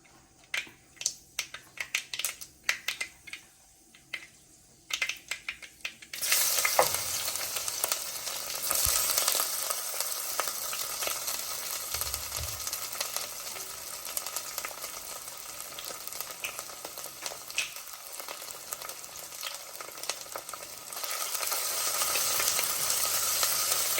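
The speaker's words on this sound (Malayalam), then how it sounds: "കടുക് പൊട്ടിക്കഴിഞ്ഞ് അതിലേക്ക് നമ്മുടെ ഇഞ്ചിയും വെളുത്തുള്ളിയും ചേർത്ത് കൊടുക്കാം." Ginger and garlic frying in hot coconut oil with mustard seeds. A few seconds of sharp crackles and pops open into a dense, steady, close sizzle that fills the rest of the clip without talking.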